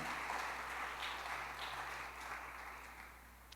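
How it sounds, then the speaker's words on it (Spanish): A church congregation claps together during a sermon, a steady wash of many hands that sounds distant and faint and fades slightly toward the end. "Dele fuerte palmas al Señor, mi querido hermano y hermana."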